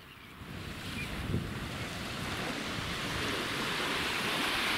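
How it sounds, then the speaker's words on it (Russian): Continuous wash of Black Sea surf rolling onto the shore at Molochnoye near Yevpatoria, Crimea, steady and broad, with wind buffeting the microphone. "Вот оно, море, берег."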